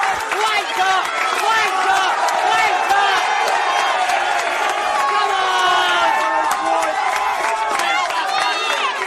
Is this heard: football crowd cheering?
yes